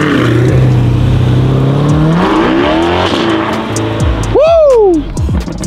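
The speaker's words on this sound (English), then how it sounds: "Let's put the C8 in here. Take my La Corvette for a little spin, Ray." A stock Chevrolet Corvette C8 accelerates hard close by. The loud engine roar climbs steadily in pitch through several rising sweeps, and a sharp high rev flares near the end.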